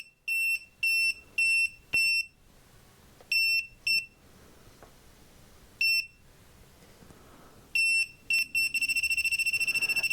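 A Kaiweets non-contact voltage tester gives sharp electronic beeps in quick bursts, pausing and restarting, then speeding into rapid continuous beeping at the end as it detects a live wire; loud and close.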